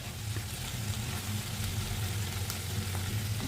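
Broad beans (chikkudukaya) fry in a pan with roasted gram powder, giving a steady, close, crackling sizzle with a low bubbling undertone and occasional soft stirring scrapes throughout.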